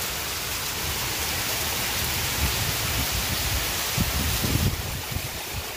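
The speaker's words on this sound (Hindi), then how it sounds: "इतनी बारिश हो रही है देखिए" Heavy monsoon-style rain pours down in a dense, steady hiss in cool weather, with occasional heavier patters and thumps close by.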